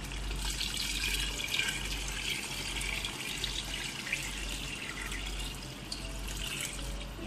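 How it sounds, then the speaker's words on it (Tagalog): A continuous stream of water pours and splashes into a cooking pot for fish salona, steady and close, with no talking. "O, ayan, nalalagyan na natin yung tubig."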